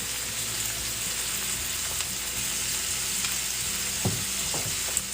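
Food sizzles in a skillet with a steady, dense frying hiss that stays even throughout, broken by a few soft utensil taps near the end.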